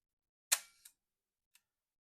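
A Fuji GW690 medium-format film camera shutter fires with a sharp mechanical snap and a quick second click, followed by a faint tick, close and isolated in silence.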